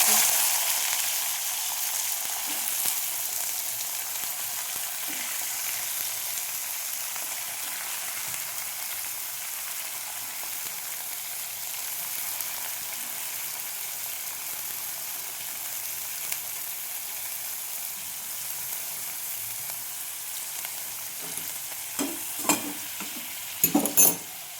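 Beetroot and carrot fry in hot oil in a wok, a steady bright sizzle throughout that swells slightly with stirring, with a few scraping clatters near the end and no talk.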